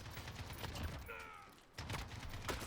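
Video game shooter gunfire, quiet bursts of rapid shots with a brief gap, then more firing resuming, all fairly faint in the mix.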